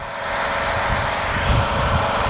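A tractor engine with a damaged, smoking muffler runs steadily close by, a rough, buzzing idle with uneven low thumps, and no voices.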